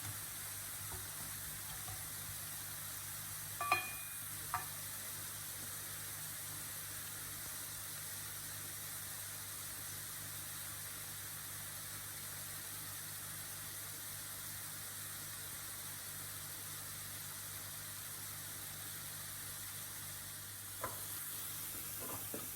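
Minced beef and translucent onions fry in a pan with a steady, even sizzle, broken by a few faint scrapes of stirring.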